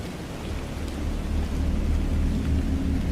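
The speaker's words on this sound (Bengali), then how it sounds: "আকাশও তখন মেঘ বিদ্যুৎ বৃষ্টির গল্প ভালো করেই জমিয়ে তুলেছে" Steady rain falls with a deep rolling rumble of thunder building underneath, a dense continuous storm ambience that grows slightly louder, with no voices.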